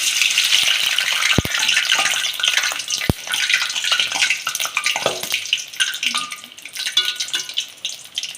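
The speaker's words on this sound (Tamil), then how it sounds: "இப்போ பஜ்ஜி வந்து ஒரு பக்கம் நல்லா வெந்துட்டு இப்போ திருப்பி போட்டுக்கலாம்" Bajji fritters frying in hot oil as they are turned, a dense continuous hiss and bubbling sizzle with a couple of sharp clicks of a utensil, close and loud with no speech.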